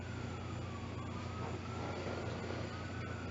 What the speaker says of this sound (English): There have been so many sirens at UH just in the first couple weeks we've been here.